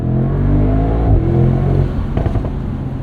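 A 2024 Mercedes SL63 AMG twin-turbo V8 roadster's engine roars loud and close as it accelerates, the deep exhaust note rising and then settling into a steady drone.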